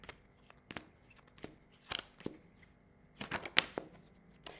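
Tarot cards being shuffled and drawn by hand, close and quiet, with crisp riffling flicks and soft slaps in an irregular rhythm, busiest toward the end; no speech.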